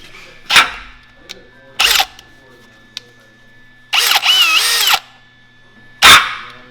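A power drill whirs in short, loud bursts in a garage while work is done on the front end of a Ford Explorer Sport Trac, with a longer run in the middle and near quiet between bursts.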